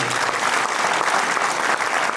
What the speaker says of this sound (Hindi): एक बार सभी के लिए, खासतौर से आयोजकों के लिए जोरदार तालियां बजाइए।